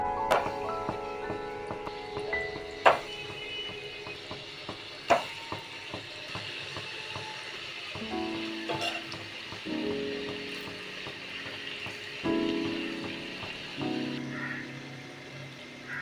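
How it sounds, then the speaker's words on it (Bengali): Paneer, potato and coconut kofta balls deep frying in hot oil, a steady close bubbling sizzle with occasional louder pops and clinks, running continuously without speech. "এবার আমি সব বলগুলোকে ডিপ ফ্রাই করে নেব"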